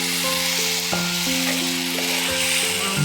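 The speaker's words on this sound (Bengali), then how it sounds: "এই যে মশলা কষানো হচ্ছে মশলা অদ্ভুত হয়ে গেছে এত সুন্দর তেল ছেড়েছে" Spice masala sizzles in oil for a Bengali meat curry, a loud, dense and unbroken frying hiss with steady tonal hums sounding underneath, no voices present.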